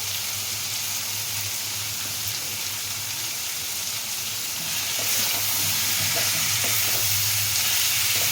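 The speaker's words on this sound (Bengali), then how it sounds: "মশলার সঙ্গে মিষ্টি কুমড়া আলুটা কষানো হয়ে গেছে" Pumpkin and potato pieces frying with spices in a pan for a prawn curry give a steady loud sizzle, with stirring scrapes growing more active toward the end and no talk.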